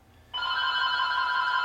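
A telephone rings with a steady, sustained electronic bell tone that starts abruptly and continues loud and clear, with no talking over it.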